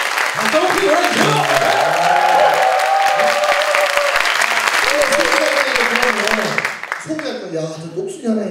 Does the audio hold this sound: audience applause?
yes